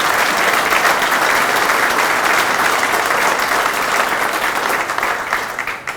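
A loud, dense round of audience applause at a veterans history ceremony, sustained evenly for several seconds and tapering off at the very end.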